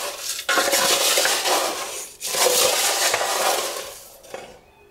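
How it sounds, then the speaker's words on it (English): Granola being stirred with added peanuts and sunflower seeds, a steady dry rattling and scraping of grains, nuts and seeds against a bowl in two long passes with a short pause between, fading out at the end. "So we just mix it again."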